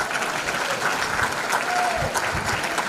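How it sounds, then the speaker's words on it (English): A gala crowd at the 2024 Tuskegee Airmen event claps for a chapter's 50th anniversary, a full, sustained round of applause with a few voices mixed in beneath the clapping. "And give us your applause right now."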